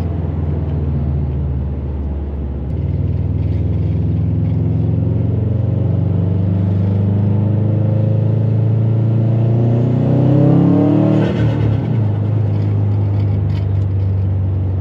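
A Subaru WRX STI engine with full bolt-ons and a dyno tune rumbles steadily, then rises in pitch as it accelerates hard onto a highway, a throaty turbocharged note building and peaking before easing slightly.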